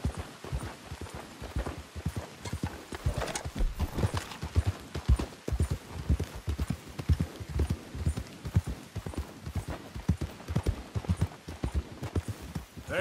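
A horse's hooves clip-clop in a steady, close rhythm in the video game Red Dead Redemption 2, with a brief whinny and no talk over the repeated strikes.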